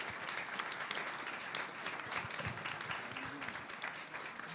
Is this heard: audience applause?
yes